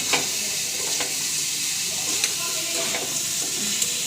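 Sugar being stirred as it melts dry in a pan with no water added, a steady close sizzle and hiss with soft scraping strokes of the spoon, no voices.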